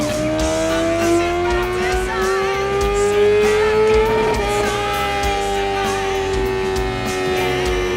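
A motorcycle on a dynamometer runs at full throttle, its engine holding a loud, sustained drone whose pitch climbs slowly and then levels off, rich in harmonics with no talk.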